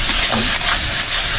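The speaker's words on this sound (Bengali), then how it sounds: "চিংড়ি মাছ ভাজা হচ্ছে" Prawns sizzle in a hot pan with a continuous close hiss and occasional crackles and stirring scrapes, with no talking.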